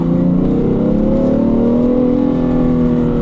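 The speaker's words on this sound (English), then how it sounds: "That engine sounds fantastic, it really does." A 2017 BMW 335d M Sport diesel engine revs loudly and steadily from inside the car, its rising harmonic drone sustained without a break and no talk over it.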